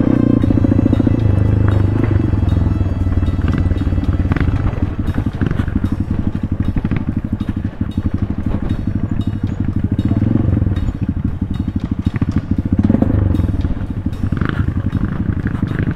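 A scooter engine runs steadily with a low, continuous drone on a rough backroad in Norzagaray, Bulacan, punctuated by rattling bumps and clatter from the rough surface, no talking.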